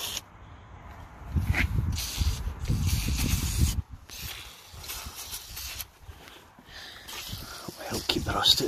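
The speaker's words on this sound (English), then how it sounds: "I'm just going to give everything a good squirt. My WD" Short hissing aerosol bursts of WD-40 are sprayed inside a Mitsubishi L200 tailgate lock, close up and intermittent, with someone talking and handling parts in between.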